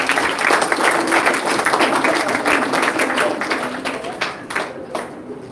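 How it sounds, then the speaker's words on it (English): An audience at a primary school transition ceremony claps in dense, sustained applause that fills the room and gradually thins out toward the end. "Let's give them a special round of applause."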